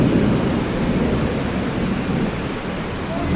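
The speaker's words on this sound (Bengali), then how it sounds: "অনেক জোরে বৃষ্টি হচ্ছে।" Heavy rain pours down steadily with a dense, unbroken roar, and low thunder rumbles beneath it throughout, loud and close.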